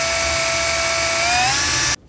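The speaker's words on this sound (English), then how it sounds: "So now I'm gonna drill a little bit more so that the nail goes and lies flat." A power drill whines steadily into the interior panel of a Subaru GC8 while a drift button is being installed. The tone is loud and continuous, rising slightly in pitch before cutting off abruptly near the end.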